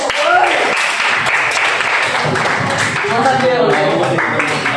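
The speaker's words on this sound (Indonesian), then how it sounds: "Oke, kita tepuk dulu." Students in a classroom clap together during a guidance counselling lesson, a busy stretch of hand claps mixed with voices talking throughout.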